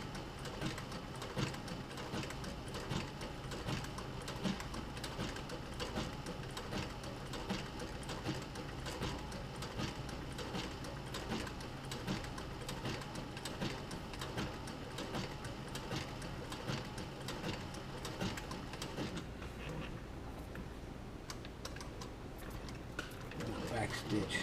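A sewing machine back-stitches a leather camera bag, running in a steady, rapid mechanical rhythm throughout.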